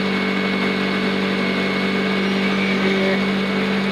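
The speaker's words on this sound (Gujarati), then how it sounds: "એટલે ગાડી ચાલુ થઈ ગઈ." A car engine runs steadily at a constant idle, a loud and even mechanical hum with a steady low drone and no clear revving.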